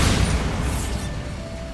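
A Bombarda spell explodes in Hogwarts Legacy. It is a loud, close, rumbling blast that fills the whole moment and fades slowly, with no voices over it.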